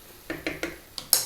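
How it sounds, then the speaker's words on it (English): A metal lid set onto a pot of simmering Ethiopian meat and potato stew: a handful of light clinks and taps, ending in one sharper, brighter clatter as it settles in place. "Lid on."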